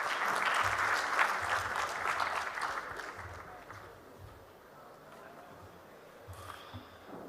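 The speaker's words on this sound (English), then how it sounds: "Round of applause, ladies and gentlemen." At the launch of a national ICT job fair, an audience applauds the Minister of State for ICT; broad clapping swells early and then thins into a softer, fading patter.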